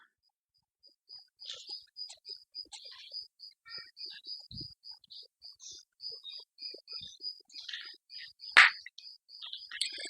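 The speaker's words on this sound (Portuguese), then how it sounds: "o barulho do grilo aí tá um pouco alto" A cricket chirps in quick repeated pulses, high and thin against near silence, with a few faint knocks and rustles mixed in.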